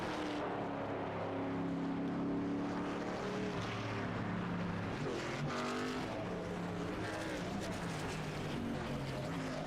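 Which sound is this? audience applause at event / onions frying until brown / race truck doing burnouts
race truck doing burnouts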